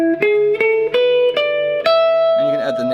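Guitar plays a psychedelic Indian-style scale in the upper octave, six clear picked notes stepping upward in a steady rhythm, then a shimmering wavering bend at the end, close and alone.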